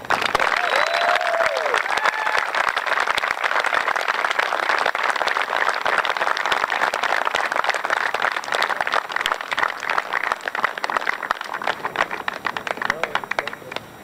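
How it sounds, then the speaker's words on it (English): Spectators at a high school baseball game give a long, heartfelt round of applause, steady clapping and crowd noise carrying across the field, with a voice briefly heard over it before it slowly thins out. "Ladies and gentlemen, please join me in giving a heartfelt round of applause to Joel Rebar, a true hero in our midst."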